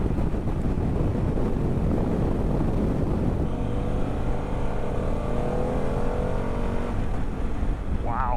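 A Harley-Davidson Pan America motorcycle accelerating in sport mode, its engine building a steady low rumble that shifts into a smoother rising drone partway through, heard close up under continuous wind buffeting.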